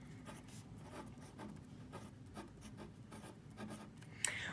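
Pencil writes on a card up close, a run of soft scratchy strokes in quick irregular rhythm, faint and alone, with a slight tap near the end.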